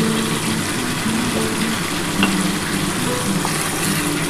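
Papaya and potato pieces fry with spiced mutton masala in a wok, giving a steady, close sizzle with faint stirring scrapes throughout.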